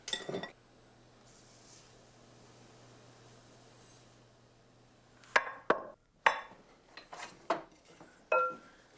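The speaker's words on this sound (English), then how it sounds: "And now I'll just stir all this together" A matzah meal mixture for homemade chicken soup is stirred in a bowl. After a quiet stretch, a spoon gives a run of sharp clinks, knocks and scrapes against the bowl, close and fairly distinct.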